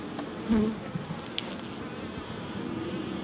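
Honeybees buzz in a brief close-up burst while hive frames are lifted out during a mite treatment, the agitated drone rising loud for a moment, then settling into a faint steady hum.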